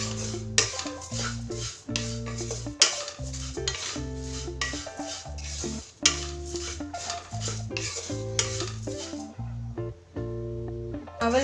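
Flattened rice flakes (aval) being dry-roasted until crisp in a pan at home, with a steady run of close stirring scrapes and light clinks over a continuous tonal backdrop.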